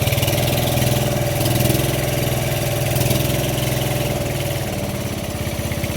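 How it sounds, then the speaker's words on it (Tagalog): A boat engine idles close by on the Pasig River, its low rhythmic throbbing chug continuous and unchanging, with no voices. "sumakay kami ng bangka"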